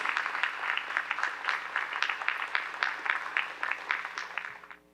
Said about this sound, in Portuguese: Pode aplaudir bem forte, Jesus